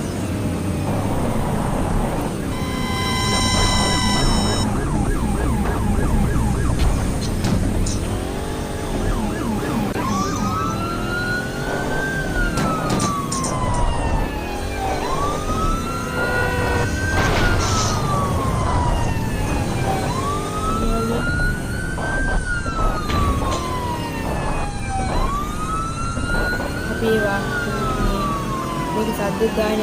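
A police vehicle siren in the Payback 2 video game wails in repeated rising and falling sweeps over rumbling engine and game noise, loud and close, with a voice talking at times.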